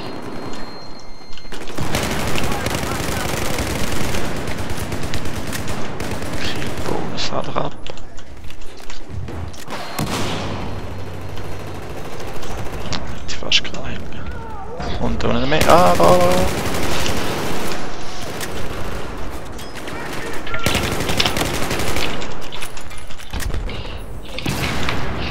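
Machine gun fire in Battlefield 4, loud sustained bursts of rapid automatic shots with short gaps, some heavier impacts, while players talk excitedly over the gunfire.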